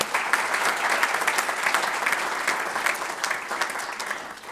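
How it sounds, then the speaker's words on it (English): Audience at a state senate breakfast forum applauds the senators, a dense, steady round of clapping from a crowd that holds at full strength for several seconds without any speech. "Please give them a round of applause."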